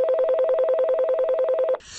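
Telephone dialing tones pulse in a rapid, steady string of about seventeen identical beeps, loud and close, then cut off into a brief burst of hiss.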